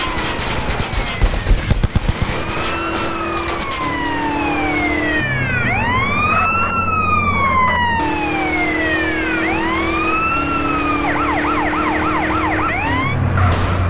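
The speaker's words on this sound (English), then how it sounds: "The San Andreas siren." Loud wailing and yelping emergency sirens in the video game GTA San Andreas sweep up and down in shifting patterns, with a few sharp bangs near the start.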